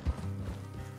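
Steady clip-clop of horse hooves trotting nearby in the video game Red Dead Redemption 2, a continuous rhythmic patter with low rumbling underneath.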